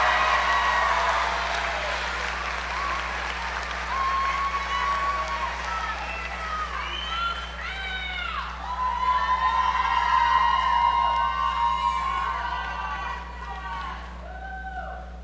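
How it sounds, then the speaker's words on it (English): Audience applauding and cheering for a graduating firefighter EMT class at a senior recognition ceremony, steady crowd clapping with some whoops, moderately distant and sustained, tapering toward the end. "Would you please give a round of applause to the firefighter EMT class of 2018."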